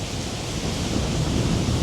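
Strong wind blows outdoors near an explosion site, a loud continuous roar buffeting the microphone with no other sounds or voices.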